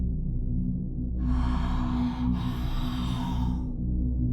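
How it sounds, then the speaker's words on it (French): A drawn-out, breathy moan swells twice, rasping like a pained, rattling breath over a constant low hum, heard at night. "Comme une respiration douloureuse, presque un râle."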